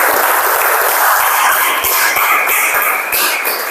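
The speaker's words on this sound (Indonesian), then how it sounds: "Tepuk tangan untuk kita semua." A class claps together at the end of a welding technique lesson, a rustling wash of many hands with scattered sharper claps, fairly loud and close.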